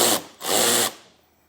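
A power tool spins out a 7mm bolt during a wiring harness install on a 2025 vehicle, two short close whirring bursts separated by a brief pause, then fading out.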